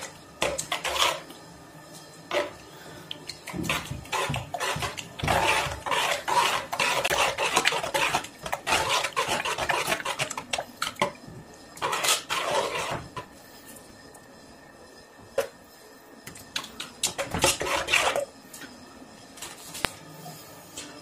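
A spoon stirs tomato sauce in a pan, making repeated scraping and clinking strokes against the metal in uneven bursts with short pauses. No one speaks.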